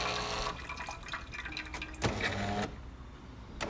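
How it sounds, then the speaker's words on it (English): A coffee machine runs its start-up rinse cycle, with hot liquid pouring steadily into a cup below in a splashing, dripping stream, close by and with no talking. "You'll want to have a cup underneath to capture the liquid coming out, which you'll just dispose of."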